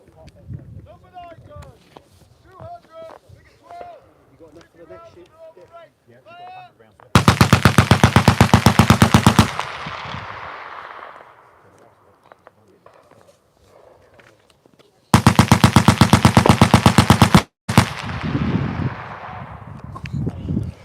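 A First World War Vickers machine gun fires two long, loud rapid bursts that echo and fade afterward, with someone speaking before and between them.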